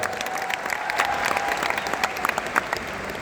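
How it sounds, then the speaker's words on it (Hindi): An audience at an event bursts into sustained applause, a dense wash of many hands clapping loudly and continuously with a few sharper claps standing out. "ताली हो जाए एक बार."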